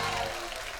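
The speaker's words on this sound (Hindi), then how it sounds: "जोरदार तालियां।" Audience applause at a comedy stage show, a brief wash of clapping under a speaking voice.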